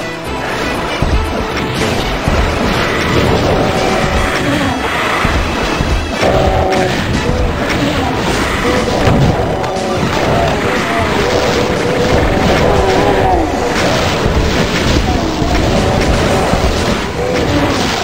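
Rocket explosions in the game Doom 2, during a rooftop fight, come as dense, repeated booms and crashes that pile up continuously over a loud, busy layer of game sound.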